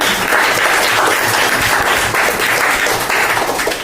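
Schoolchildren at a government school in India burst into loud, dense applause, a steady wash of many hands clapping close by for the whole stretch.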